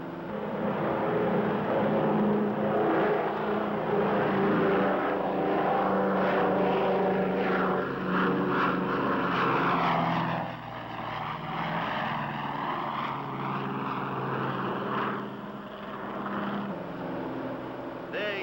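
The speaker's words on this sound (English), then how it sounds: "Big as this Super Connie is, she wants to fly right on off of there." A Lockheed Super Constellation propeller airliner takes off, its piston engines giving a loud, steady droning roar that holds throughout, with a voice speaking over it partway through.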